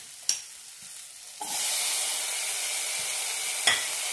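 Cabbage and tomato chutney mix with coriander leaves and grated coconut sautéing in a pan: a steady, close sizzle and hiss that starts after a sharp utensil clink, with another clink near the end.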